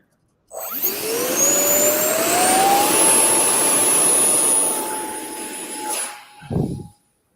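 An RC airplane's motor whines loudly and climbs in pitch as the plane is hand-launched and flies off, holding a steady whine before fading, followed by a brief low thump.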